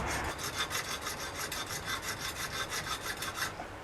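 A metal file rasps across the steel receiver of a coach-style shotgun under repair, in quick, even back-and-forth strokes, close, rhythmic and steady, with no voices.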